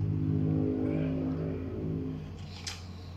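A motorcycle passes nearby with a steady, humming engine drone that is loud at first and gradually fades as it moves away, with no talking over it.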